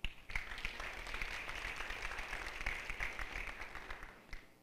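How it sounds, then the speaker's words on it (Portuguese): Church congregation applauding a pastor couple, a dense steady wash of many hands clapping for several seconds at moderate loudness, with no talk over it. "Salva de palmas para esse casal."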